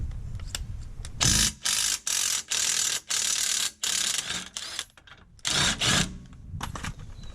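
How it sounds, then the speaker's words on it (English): 24mm ratchet working on a lower strut bolt of a 2019 Honda Pilot, giving repeated bursts of rapid metallic clicking separated by short pauses, close and fairly loud, with no voices. "Using a 24mm, loosen the lower strut bolt."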